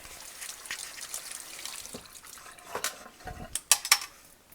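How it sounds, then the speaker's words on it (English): Water runs and trickles at a kitchen sink while hands are rinsed during lasagna roll-up prep, a soft steady flow with a few louder splashes and clinks of dishes near the end. "Rinse my hands."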